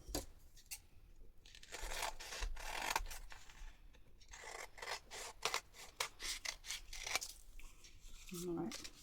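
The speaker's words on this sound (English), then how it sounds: "Let's cut a bit of a template from this one." Scissors snip repeatedly through paper while cutting out a template, a close run of sharp cuts with crinkling and rasping, and brief talk over the cutting.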